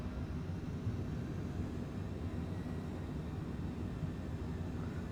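Eurofighter Typhoon jet engine throttling up in Flight Simulator 2020, a steady low rumbling drone with a faint rising whine, moderately quiet and continuous throughout.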